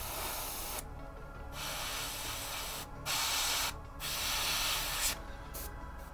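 An airbrush lays black paint onto a painted miniature as a loud, close hiss. It runs in several long bursts broken by brief stops, with no voices.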